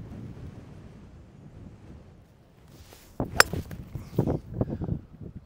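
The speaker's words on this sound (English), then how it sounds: "What's a stout wind blowing right at me?" Strong wind buffets the microphone on an open golf course, a low rumbling roar that eases off midway, then returns in heavier irregular gusts and thumps.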